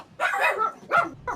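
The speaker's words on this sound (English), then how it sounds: "excuse the dogs in the background" Dogs bark in the background during a gaming tournament broadcast, giving three quick, close barks and yips in an uneven burst with no voices over them.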